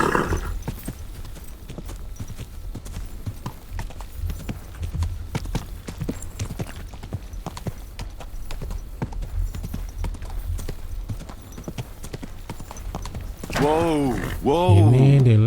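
Horse hooves clip-clop steadily and close in Kingdom Come Deliverance II, a continuous rhythmic plodding across the whole stretch, with a voice briefly speaking near the end.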